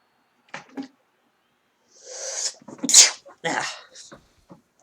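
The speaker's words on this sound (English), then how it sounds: "now that I'm done with my sneezing fit" A sports-league broadcaster has a sneezing fit, with several short sharp sneeze bursts spread over a few seconds. They are close and fairly loud, with brief breathy sounds between them.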